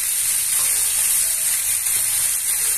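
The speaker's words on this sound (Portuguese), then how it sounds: "Aqui nós vamos deixar a costela dourar, bem douradinha." Beef ribs for rice with ribs browning in a hot pan give off a steady, close, loud sizzle with a bright hissing crackle and no voices.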